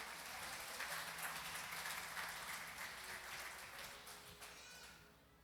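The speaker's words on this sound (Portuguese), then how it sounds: "Você pode aplaudir o Senhor Jesus." A church congregation applauds in a sustained wash of clapping, very faint and distant. Low sustained tones hum beneath it, and the applause fades away toward the end.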